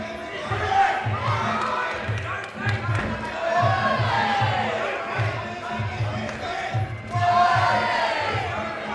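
Crowd at a Muay Thai fight cheering and shouting continuously, loud and dense with rhythmic chanting or clapping pulses, swelling near the end, while a commentator talks over it.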